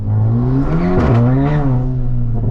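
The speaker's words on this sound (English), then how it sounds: "A lot of wheel spin then" A Stage 2 VW Polo GTI accelerates hard with wheelspin, the engine note climbing and dipping steadily, loud and close from inside the car throughout.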